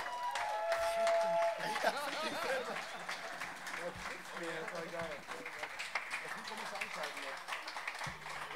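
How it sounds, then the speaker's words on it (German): A festival crowd at the Wacken Open Air metal festival applauds steadily from a moderate distance, a continuous spread of clapping with cheers and a voice talking over it. "Nochmal einen riesengroßen Applaus für Mutz, bitte"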